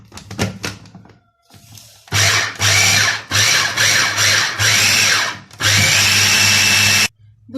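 An electric blender whirs loudly through a homemade cocoa Nutella mixture in several bursts of a few seconds each, cutting in and out, preceded by softer clinks and handling noises up close.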